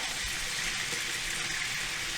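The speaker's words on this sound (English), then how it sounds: "As you see, all around is splatter, so be careful when you fry them so don't get burned" Beef rolls fry in a pan with a constant bright hiss of sizzling fat and fine splattering, steady and close throughout without any pause.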